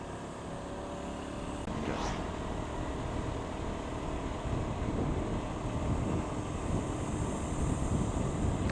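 Steady wind rushing past the microphone during a bike joyride, a continuous broadband roar with no speech over it.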